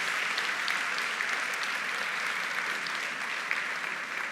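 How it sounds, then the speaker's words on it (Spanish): Congregation in a church applauds a visiting youth group, a dense, even roar of clapping from many hands that holds steady throughout, with no one speaking. "Denles un aplauso fuerte."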